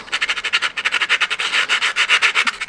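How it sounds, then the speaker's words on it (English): Sandpaper rubs rapidly back and forth against a small 1911 pistol model, a close, loud, rhythmic scratching of quick even strokes. "You can of course move the sandpaper against it or hold the sandpaper firm and rub the GoatGun against it."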